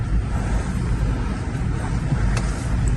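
Nissan Safari diesel SUV driving off after a whole winter standing in the frozen cold of Yakutia: a steady, fairly loud low engine rumble with road and wind noise, and no voices.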